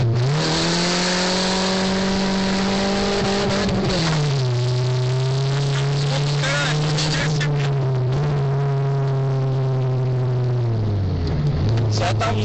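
A Vauxhall Vectra fitted with a turbo and a straight-through exhaust drives hard, and its loud droning engine note rises and settles across several gear changes, with a harsh rasp throughout.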